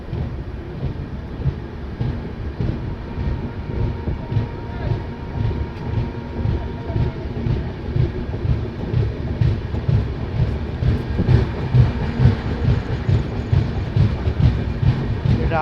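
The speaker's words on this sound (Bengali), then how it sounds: "রাতের অন্ধকারে ট্রেন ধীরে ধীরে রায়বরেলি স্টেশন ছেড়ে বেরিয়ে যাচ্ছে।" An express train on the New Delhi to Malda Town route pulls slowly out of Raebareli station before dawn, heard from on board as a steady low rumble with soft rhythmic wheel clatter, continuous and fairly close.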